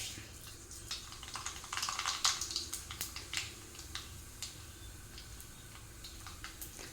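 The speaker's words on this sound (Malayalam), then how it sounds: "വെളിച്ചെണ്ണ ചൂടായിട്ടുണ്ട് അതിലേക്ക് നമുക്ക് കുറച്ച് കടുക് ഇട്ട് കൊടുക്കാം" Mustard seeds spluttering in hot coconut oil make scattered sharp pops and crackles, clustered in a brief burst then thinning to sporadic ticks over a low sizzle, with no voices.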